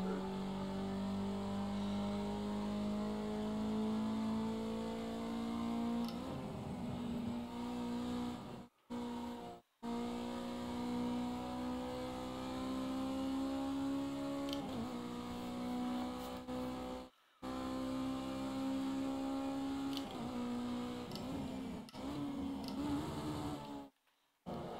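Race car engine in a racing video game, held at a steady high rev with harmonic whine, dropping through several downshifts marked by brief gaps and pitch falls, close and loud with no talk.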